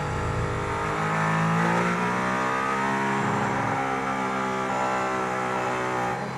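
A Mercedes-AMG ONE hypercar accelerates hard on the Barcelona racing circuit, its engine a loud, continuous, close-up roar that climbs and shifts in pitch through the gears without a break.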